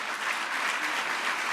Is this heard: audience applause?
yes